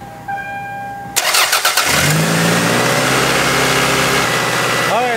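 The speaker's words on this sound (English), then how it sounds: "our engine is revving way too high due to this vacuum leak" A car engine cranks and starts with a burst of noise, then holds a steady, loud, fast idle that sits too high because of a vacuum leak at the intake manifold, running alone and close by.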